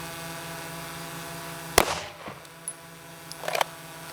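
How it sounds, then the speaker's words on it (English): Two 9mm 115-grain FMJ rounds fired into lightweight body armor: a sharp, loud close shot followed by a fainter echo, then a second burst of impact noise near the end, with no voices. "we're going to shoot it with this 115 grain FMJ round just to see how the deformation is"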